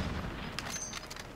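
Enemy gunfire in Call of Duty Warzone during a vehicle chase, a short cluster of several sharp cracks over a constant low rumble.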